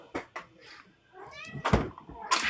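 A house cat meows several times, short close calls with rising and falling pitch, mixed with light knocks and household clatter and a brief burst of noise at the end.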